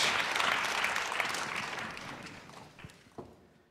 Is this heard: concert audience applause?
yes